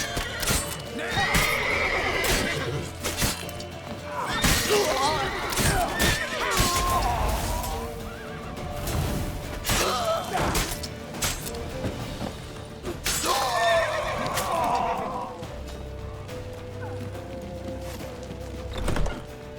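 A horse neighs loudly twice in a Witcher 3 game scene, with hooves clattering, crashes and thuds, and urgent voices shouting around it.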